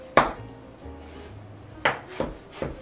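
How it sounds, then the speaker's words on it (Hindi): Knife chopping tomatoes into small cubes on a board, a few sharp separate cuts spaced unevenly, close and fairly quiet, with soft scraping between them and no talk. "इस तरह छोटे छोटे ये क्यूब्स में आपने टमाटर काटने हैं।"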